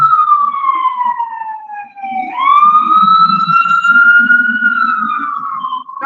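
Loud, close emergency vehicle siren wailing in long rising and falling sweeps, dipping low for a moment before climbing again, with a faint engine rumble underneath.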